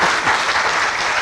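A brief, loud burst of dense clapping from an innovation-awards audience, applauding the vice-president on his own with no voice over it.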